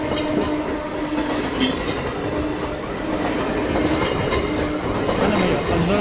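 A crowded passenger train passes a busy street crossing in a large Indian city. A loud, continuous rumble carries rhythmic clickety-clack of wheels over rail joints, with occasional metallic squeals.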